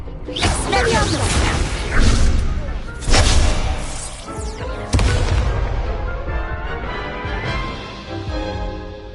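An Expelliarmus spell is cast in a duel in Hogwarts Legacy, loud whooshing magical blasts and booming impacts in several surges, dense and close, with speech mixed in.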